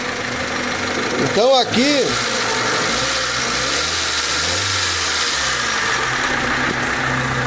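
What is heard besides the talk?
Honda Civic 1999 engine running at idle, slightly rough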